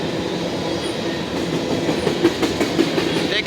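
Freight train of tank cars rolling past close by, a steady rumbling roar with rhythmic clickety-clack of wheels over rail joints throughout, no voices.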